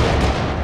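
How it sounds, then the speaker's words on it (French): A grenade blast in the Syndicate video game, a loud, dense low rumble that fills the whole short moment with no talk over it. "Grenade."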